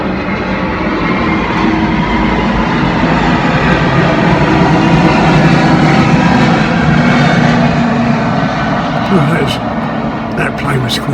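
Steady, broad engine drone of an airplane passing overhead a back garden, fairly quiet and continuous throughout, with a faint clicking near the end.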